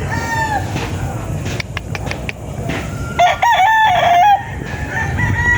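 A gray stag rooster crows loudly and close, with a drawn-out cock-a-doodle-doo near the middle, among clucks and other fowl calls in a busy farmyard with background chatter and a faint chime.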